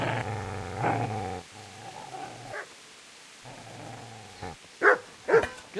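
Dog growls and snarls in the video game Kingdom Come: Deliverance, a steady low rumble lasting several seconds, then a few sharp, loud barks near the end.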